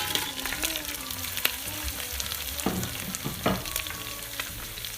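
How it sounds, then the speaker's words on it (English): Crabs frying in a pan for a Sri Lankan crab curry, a continuous moderate sizzle with a few stirring scrapes and clunks near the end. "So I'm going to go ahead and add the crabs."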